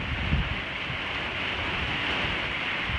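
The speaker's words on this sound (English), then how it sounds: "It's raining sideways." Heavy rain driven sideways by wind pelts a trailer in a steady, dense roar of drops on its surface that stays loud and unbroken from start to finish, with no voices over it.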